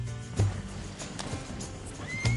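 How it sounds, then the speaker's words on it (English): A horse neighs loudly in Red Dead Redemption 2, short whinnies at the start and end over hoof clatter and busy game background noise. "Now we've lost a horse!"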